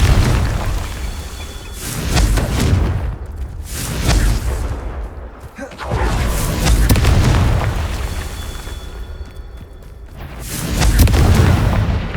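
Repeated Confringo fire-spell blasts in Hogwarts Legacy, deep booming explosions arriving in three or four heavy waves with rumbling tails, loud and close, no talk.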